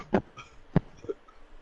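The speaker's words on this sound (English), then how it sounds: "you start coughing" Two or three sharp coughs, one at the start and a stronger one midway, with a softer hack after, close and fairly quiet.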